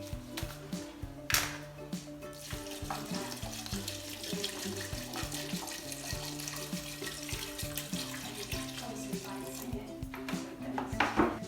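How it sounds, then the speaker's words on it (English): Distilled water pours steadily into a soup pot full of vegetables, a continuous close splashing wash with occasional clinks, while a person talks over it. "you pour in as much as you can until it fills it up to the level at which all of your vegetables are"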